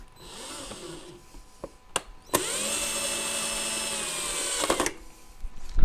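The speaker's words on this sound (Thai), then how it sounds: "แล้วก็ปิดกลับเหมือนเดิมนะครับ แล้วก็ขันกลับนะ" A power screwdriver drives screws back into the cover of an Antminer D7 crypto mining machine, with a couple of short bursts followed by one steady, close whine lasting a few seconds.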